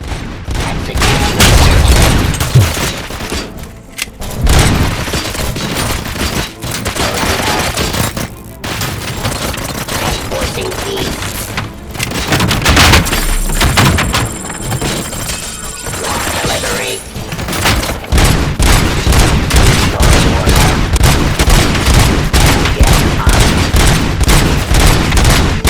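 Heavy gunfire rattles through Robocop: Rogue City, loud bursts of shots, booms and crashes that run almost without a break, with voices speaking amid the fighting.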